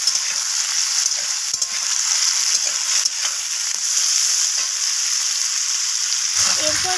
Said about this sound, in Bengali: তো কড়াইগুলোকেও নাড়াচাড়া করে ভেজে নেব।